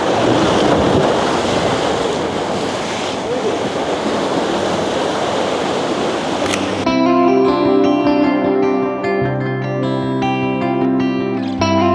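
Ocean waves wash over a drain on the shore, a loud broadband rush with wind buffeting for about seven seconds, then music takes over.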